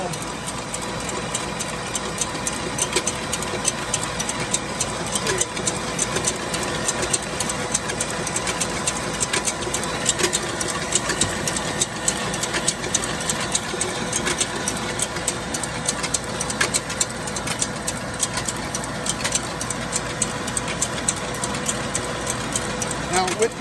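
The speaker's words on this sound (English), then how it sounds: "now with the mixer, it's actually gonna work a little bit better because it keeps a constant speed" An electric mixer whirs at a constant speed while blending homemade mayonnaise, a steady, fairly loud motor drone that runs throughout beneath a person talking.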